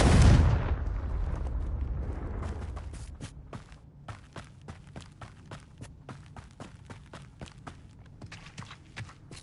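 A Confringo fire spell explodes in Hogwarts Legacy with a loud, booming blast that decays over a couple of seconds, followed by a steady series of crisp footsteps.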